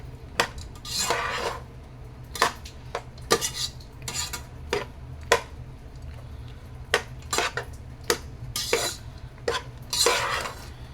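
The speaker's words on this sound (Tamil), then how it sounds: "ஸோ இது மாதிரி பொறுமையா அடியில இருந்து எடுத்து எடுத்து இந்த மாதிரி கிளறி விடுங்க" A spoon scrapes and knocks against a pan while lemon rice is stirred slowly up from the bottom, giving a steady series of sharp metallic clinks over a soft continuous scrape, close and clear with no talking.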